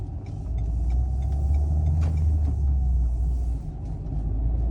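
A Renault Scenic drives along the road toward a roundabout, producing a steady, close, low engine and road rumble that holds evenly throughout, with no talking.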